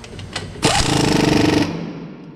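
Power tool tightening brake bolts on a 2015 GMC Sierra during a front disc brake job: a few faint clicks, then a single loud, close, rattling burst lasting about a second before cutting off.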